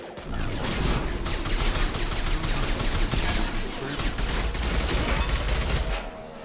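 Dense continuous gunfire from a Mass Effect 2 firefight rattles on without pause, a loud crackling barrage of rapid shots and impacts that fills the whole stretch.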